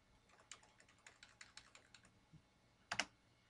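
Computer keyboard keys tapped in a quick run of about a dozen light, close clicks, ending in a louder double press of the Ctrl and V keys, heard on their own in a quiet room.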